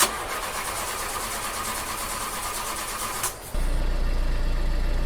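In a horror video game, a car engine cranks over a steady hiss for about three seconds, then catches and settles into a loud, steady low idle.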